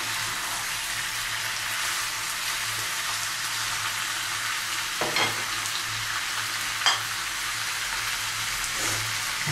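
Chicken stew ingredients with potatoes sizzle in a pan, a steady soft frying hiss with a few spatula scrapes and stirring knocks from a nearby cook.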